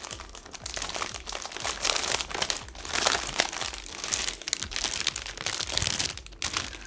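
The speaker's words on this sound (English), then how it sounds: "Why is this plastic giving me such a hard time?" Plastic packaging being unwrapped from a Roccat Vulcan low-profile keyboard, a steady close run of crinkling and crackling that keeps going the whole time with no talk over it.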